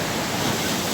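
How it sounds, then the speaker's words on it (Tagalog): Large sea waves crash and roar along the shore at San Antonio, a loud, continuous rush of surf and spray with wind noise on the microphone. "papakita ko lang sa inyo kung gaano kalaki yung mga alon dito sa dagat ng San Antonio"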